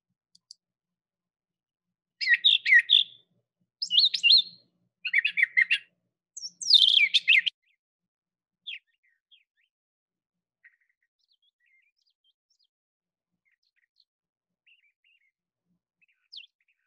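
A songbird sings clear, high chirping phrases, several short bursts in close succession with paired repeated notes, followed by scattered faint single calls against a quiet background.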